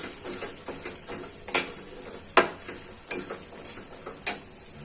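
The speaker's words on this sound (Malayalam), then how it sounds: "നന്നായിട്ടൊന്ന് ഇളക്കി കൊടുക്കുക." A spoon stirs fried chicken in boiling vinegar in a pot while chicken pickle is made, giving faint, scattered clinks and scrapes against the pan over a quiet bubbling background.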